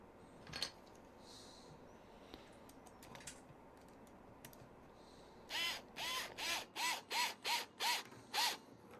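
Fitting a 12mm screw into a wooden marble clock gives scattered faint clicks and taps, then a run of eight loud, evenly spaced ratcheting bursts from a close screwdriver.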